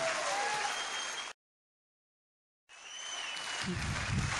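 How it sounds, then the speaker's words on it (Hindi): An audience applauds loudly in a hall, a dense burst of clapping that cuts out completely for over a second, then resumes just as strongly and continues to the end. "आप सब लोग जोरदार ताली इसलिए बजाएं"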